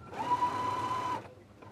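A sewing machine runs steadily for about a second, stitching a dress dart with an even, close mechanical whir before stopping.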